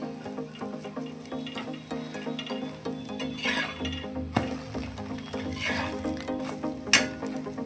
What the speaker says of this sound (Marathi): आता हे पलटून दोन्ही बाजूने फ्राय करून घ्यायचं आहे याला